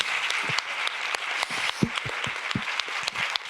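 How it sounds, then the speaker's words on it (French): An audience applauds at the opening ceremony of the FIFDH 2025 film festival in Geneva. The clapping is steady and dense, with sharper individual claps standing out near the listener. "Je propose qu'on applaudisse encore une fois, s'il vous plaît."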